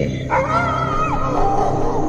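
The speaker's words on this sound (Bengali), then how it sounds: "কুকুরটা ডাকছে" A dog barks and whines in a long, drawn-out yelping howl, close and loud over a low background rumble, used as a sound effect within a narrated story; no talking.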